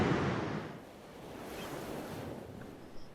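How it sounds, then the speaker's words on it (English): Pacific Ocean surf on the northern Oregon coast rolls in as a soft, continuous wash of waves, faint and slightly wind-blown, with no voices. "Ocean in view."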